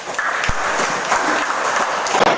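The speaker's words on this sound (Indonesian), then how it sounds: "Sekarang berilah tepuk tangan untuk kelompok 1" Classroom applause for a student group: a steady, dense patter of many hands clapping at once, sustained and fairly loud throughout with no break.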